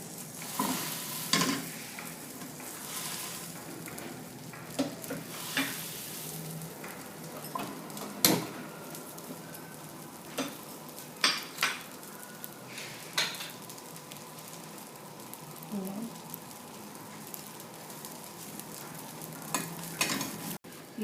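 Butter-spread pav toasts on a hot pan, a soft low sizzle under repeated clinks and scrapes of a utensil, with louder taps spaced irregularly throughout.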